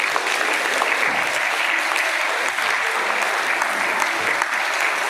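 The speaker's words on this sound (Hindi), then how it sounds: "यहाँ के टीचर्स जो आपको पढ़ा रहे हैं उनके लिए एक बार चाहूंगा जोरदार तालियां हो जाए" Hearty applause for the schoolteachers fills a room of students, dense and steady clapping throughout with a faint murmur of voices beneath.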